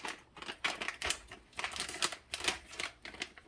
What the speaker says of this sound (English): I'm going to open up the granola. It's a brand new bag.